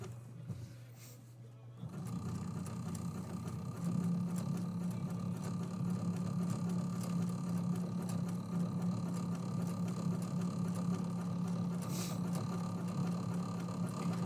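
A home sewing machine basting a quilt runs with a steady motor hum and rapid needle whir, starting after a brief pause and continuing evenly and close throughout.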